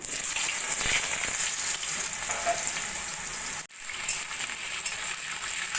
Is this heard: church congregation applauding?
no